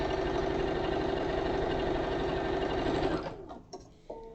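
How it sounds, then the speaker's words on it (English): A sewing machine runs continuously, top stitching a fabric flap on a hanging car organiser, with a steady rapid needle chatter that stops after about three seconds and gives way to a few faint handling clicks and rustles. "And then we're going to top stitch along the top, or the bottom of the flap"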